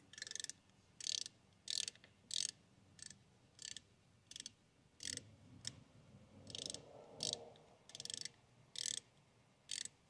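A ratchet wrench loosening a 10mm nut on the battery terminal of a 2020 Toyota Corolla SE, giving about a dozen short, crisp clicking bursts in a steady rhythm, close and clear with faint movement between strokes.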